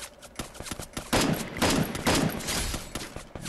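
Gunfire in the Free Fire video game comes as rapid bursts of shots, loud and close, some overlapping into dense volleys across the few seconds.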